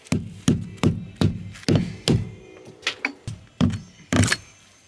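Repeated sharp taps with a small hammer inside a Dodge Sprinter van, about a dozen short knocks in an uneven rhythm, close by and fairly loud, with no talking.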